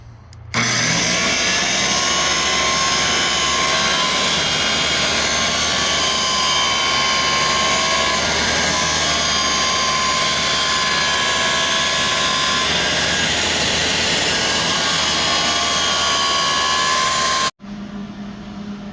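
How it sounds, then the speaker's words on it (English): Welding the metal frame of a smoker, a loud steady hiss and crackle of the welder running continuously for about seventeen seconds before cutting off abruptly. "So welding up the part of the frame that's going to go from the base to the bottom of the smoker."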